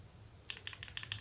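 Mechanical keyboard switches fitted with new keycaps being typed on at close range, a quick irregular run of about a dozen crisp clacks that begins after a brief quiet lead-in over a low background hum.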